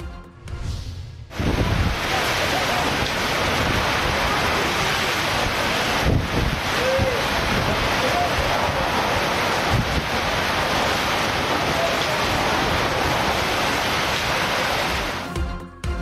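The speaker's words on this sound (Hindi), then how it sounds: "इस्लामाबाद में बादल खूब बरसे।" Heavy rain falls steadily over Islamabad, a dense continuous hiss that stays loud and even from start to finish, with no voices over it.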